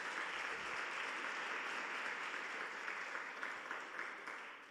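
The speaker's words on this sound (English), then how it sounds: "Now give yourselves a big hand clap" An audience at a youth weekend event in the Northern Cape claps steadily, a dense, even wash of applause that holds its level throughout before tapering slightly at the end.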